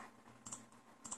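A few faint, quick clicks from a computer mouse or keyboard come in a short burst in a quiet room.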